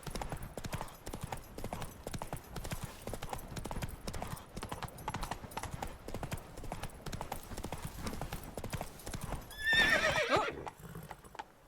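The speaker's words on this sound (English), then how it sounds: "Come on, Roach. Giddy up. Giddy up" Hooves of a horse ridden in Witcher 3 clip-clop at a steady trot throughout, with a short whinny near the end before things quieten.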